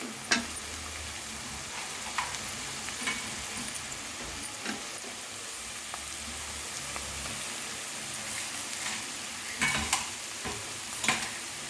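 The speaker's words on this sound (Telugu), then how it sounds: "బాగా ఎర్రగా వేగినాక ఇందులో మామిడికాయ ముక్కలు వేసి" Raw mango pieces frying in a pan of hot oil, a steady crackling sizzle with several sharp stirring taps and scrapes, no voices.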